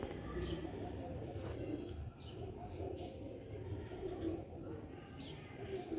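Sialkoti breeder quail chicks give soft, repeated cooing calls. The sound is faint and low, set against a constant background hum with brief chirps here and there.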